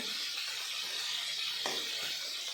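Potatoes fry in a pan with a constant dense hiss of hot oil, steady throughout, with one faint knock partway through.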